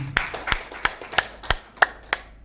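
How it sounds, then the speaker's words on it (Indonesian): At the official close of a school teacher-training event in Indonesia, a few people clap in a slow, even rhythm. About seven sharp, distinct claps come close together, with quiet gaps between them. "Sekali lagi kita tepuk tangan."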